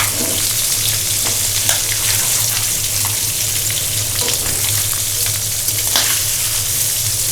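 Fish sizzling in a frying pan during a home cooking session, with a steady, close crackle of hot oil and a low hum underneath, holding constant throughout with no talking.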